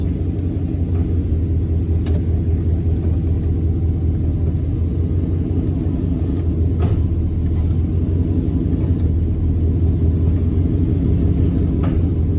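A 1997-2002 Dodge Ram truck idles with a steady, loud low rumble while being run through its transmission gears, the engine drone continuous and close with only faint ticks above it.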